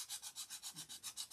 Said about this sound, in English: sometimes you have to do a little sanding to get it down in there